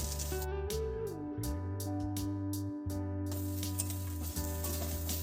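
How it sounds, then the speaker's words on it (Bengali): Cut potato pieces tipped into a pan of fried onions, sizzling loudly and steadily with stirring scrapes throughout. "এবার আমি এর মধ্যে দিয়ে দেব কেটে রাখা আলুর টুকরোগুলো"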